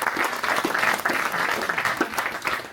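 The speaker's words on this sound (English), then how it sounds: "give a round of applause to Liberty, Daniel and marketing and PR team" Audience applause at a business tech event, honoring the marketing and PR team: steady, dense clapping from a room full of people, loud and continuous from start to finish with no talking.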